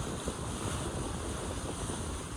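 Sea waves wash continuously below the bowsprit net of the sailing ship Star Clipper, a steady broadband rush of water mixed with wind buffeting the microphone, loud and unbroken with no voices.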